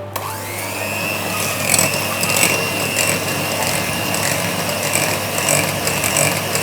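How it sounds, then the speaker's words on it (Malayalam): An electric blender beats frozen whipping cream with a loud, steady motor whine close by, its pitch holding even while faint scraping and churning pulses ride on top throughout, with no talking. "ഇനി നമ്മളൊരു ബ്ലെൻഡർ ഉപയോഗിച്ച് നന്നായിട്ട് ബീറ്റ് ചെയ്യാം."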